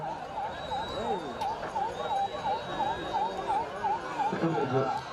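An ambulance siren wails in a rapid, repeating up-and-down pattern at a village manjuvirattu bull-taming event. It sounds moderately close, with crowd voices and talk underneath.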